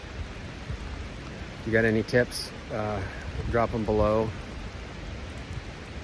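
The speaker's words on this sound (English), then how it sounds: "how to sit out in this miserable rain all day, I got rain gear on, but I'm still getting wet." Rain falls outdoors during a late-season rifle blacktail deer hunt in western Washington, a soft, steady hiss underneath someone speaking close by.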